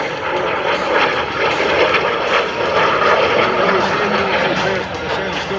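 Loud, steady roar of an L-39 Albatross jet performing a four-point aerobatic roll at an air show, sustained throughout with no break, with commentators talking over it.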